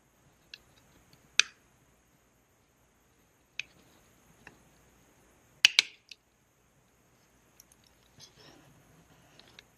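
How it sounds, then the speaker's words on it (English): A Razer mouse scroll wheel, repaired with a toothpick shaft, gives a few sharp, isolated clicks spread over several seconds of near silence, close and quiet. "I feel the clicking motion, so I know it's connected to the sprocket properly."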